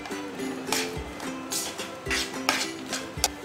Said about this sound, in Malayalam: ഇനി നമുക്ക് നമ്മുടെ പഴവും തേങ്ങയും കൂടെ ഒന്ന് വഴറ്റിയെടുക്കണം.